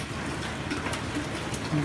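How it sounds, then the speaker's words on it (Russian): Steady rain falls in a soft, even patter of drops on a surface, faint and continuous with no voices. "Только привыкли к тому, что нормальная погода, и тут бац, дождь."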